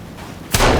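A single loud gunshot in the survival video game Sons of the Forest, a sharp blast after a quiet stretch with a booming tail that lingers to the end.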